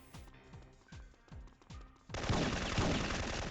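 Gunfire in the Syphon Filter video game: a steady series of separate booming shots, then a sudden loud, dense burst of sustained automatic fire that runs to the end.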